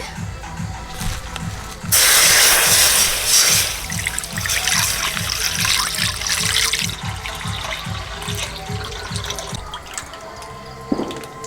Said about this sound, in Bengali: দুধটা জাল দেওয়ার জন্য কড়া বসিয়ে দিয়েছে দুধ দিয়ে দিচ্ছি